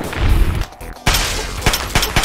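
Gunfire in Fallout: New Vegas: a loud crackling burst, a brief pause, then a sharp blast followed by several distinct close shots spaced at irregular intervals.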